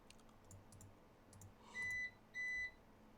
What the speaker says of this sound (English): I just heard a beep,